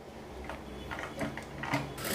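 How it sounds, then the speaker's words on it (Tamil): A sewing machine stitching cloth with a quarter-inch seam, a soft mechanical whirring and ticking that builds in short runs, close and moderately quiet. "இந்த இடத்துல இருந்து நம்ம 1/4 இன்ச் அகலத்தில் தையல் போட்டுக்கலாம்"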